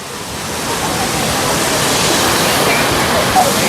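Water crashing steadily at an artificial waterfall in Bangalore, a loud, continuous broadband roar that holds level throughout, close by, with no clear voices over it.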